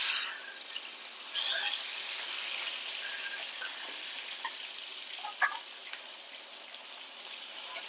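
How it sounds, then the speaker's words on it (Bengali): Fish frying in hot oil in a wok, a steady hiss of sizzling with a few sharper crackles and pops, moderately close, no talk. "এবার মাছগুলো ভাজার জন্য দিয়ে দিচ্ছি"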